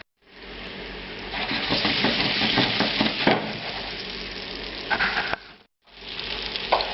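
Italian meatballs frying in oil in a pan give a loud, continuous sizzle that swells and crackles, with a short pause before the sizzling picks up again.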